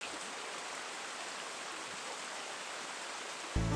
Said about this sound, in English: Padley Gorge is just a mass of flowing water at the moment because of the heavy rain